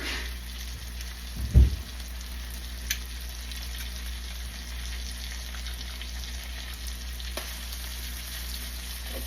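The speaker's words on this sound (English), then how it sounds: "I'm gonna go ahead and put some crushed garlic in." Crushed garlic sizzles in a pan alongside seared chicken cutlets, a steady even frying hiss with one brief louder thump early on, close and without talk.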